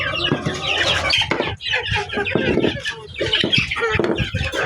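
Backyard chickens cluck and squawk continuously at feeding time, a dense, loud, close chorus with wing flaps mixed in.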